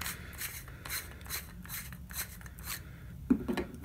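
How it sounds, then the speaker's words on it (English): Light hand sanding of plastic with sandpaper, smoothing small burrs on a campervan water tank fitting: soft, repeated rasping strokes at close range, fairly quiet and steady, with a sharper knock near the end. "Just a little light sandpaper just to take those one or two little burrs off."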